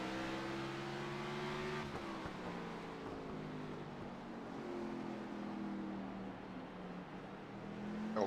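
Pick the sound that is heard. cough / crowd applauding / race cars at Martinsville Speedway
race cars at Martinsville Speedway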